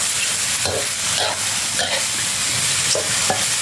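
Squid and holy basil stir-fried in a hot pan, a continuous bright sizzle broken by several sharp scraping stirs of the spatula, close and loud with no talk.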